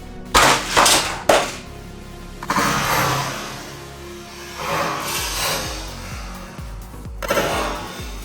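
A Hot Wheels toy police car is launched around a plastic loop stunt track, rattling and clattering along the track with sharp plastic impacts and a rolling rumble over about eight seconds.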